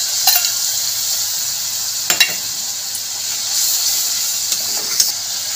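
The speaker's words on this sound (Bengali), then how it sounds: "এবার এর মধ্যে জলে গোলা মশলাটা দিয়ে দেবো।" Spice paste loosened with water is tipped into a hot pan of fried tomato for a Bengali anguri aloo dum, giving a steady close sizzle and hiss with a few sharp spatters and stirring scrapes.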